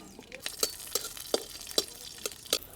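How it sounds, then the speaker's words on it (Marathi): Chillies and peanuts dry-roasting in a kadhai over a wood-fired chulha, with a soft steady crackle broken by sharp scraping stirs about every half second, close and fairly quiet. "मिरच्या आणि शेंगदाणे आपल्याला भाजून घ्यायचे इथं"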